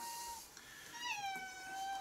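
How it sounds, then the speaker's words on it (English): Cat meowing indoors in a home workshop shed, a drawn-out tonal cry rising then gliding down, fairly close, with a faint earlier call and low room noise beneath. "And now the cat's come in."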